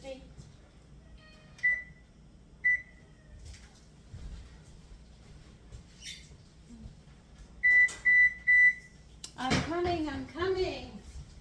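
A kitchen oven set to 350 degrees gives a few short electronic beeps, including a quick triple beep, amid soft kitchen noise, with a voice talking briefly near the end.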